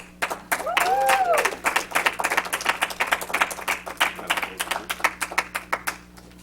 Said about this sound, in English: let's give a big round of applause for our general evaluator, Tony Bailey.